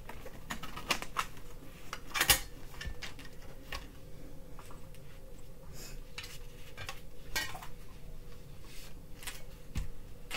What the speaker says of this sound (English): we have to hook these together from the back